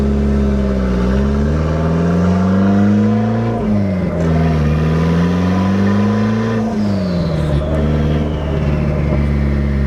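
Turbo Honda Civic engine revving through its exhaust, a loud, deep diesel-like drone that swells and dips in pitch across several long revs, close and continuous.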